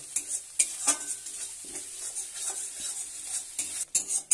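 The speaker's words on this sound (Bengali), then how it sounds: "জল দিয়ে ভালো করে কষিয়ে নিচ্ছি" Rui fish in poppy seed paste with added water being stirred and scraped in a pan, with a soft sizzle underneath and irregular clinks of the utensil against the metal.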